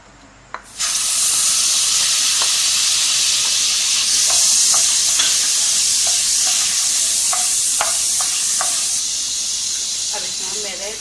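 Butter melting in a hot pan gives a steady, loud sizzle and hiss. It begins abruptly and carries on throughout, with small crackles and brief stirring sounds, and no talk is heard.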